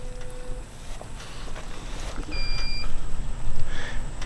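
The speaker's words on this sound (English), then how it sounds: "if you heard the beep, that was the battery backup." The Hugo battery backup system gives a short electronic beep, a steady tone heard over rushing water and wind noise, with a second higher two-tone beep sounding partway through.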